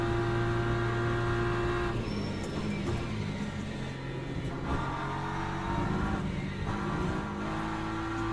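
A race car engine drones steadily at Monza in the racing game Le Mans Ultimate, its tone rising and falling as the car accelerates and backs off through corners, loud and continuous with no voices.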